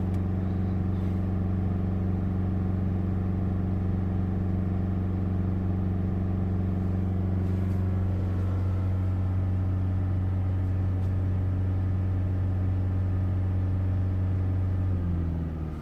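A Honda CR-V i-DTEC diesel engine holds a steady high-idle rev during DPF regeneration, a loud continuous hum with strong low tones that drops in pitch near the end as the revving stops.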